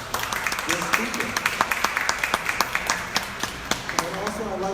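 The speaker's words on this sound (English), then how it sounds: "I'd like to give a warm round of applause to Mr. Fowler and our guest speaker" Sparse applause from a small audience at a talk about Mary McLeod Bethune, individual claps standing out as distinct sharp hits in an uneven rhythm, with voices murmuring underneath.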